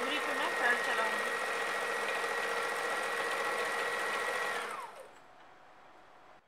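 A sewing machine stitching lace onto a dupatta, a fast steady mechanical whirring chatter that runs for several seconds, then stops abruptly, leaving quiet room tone.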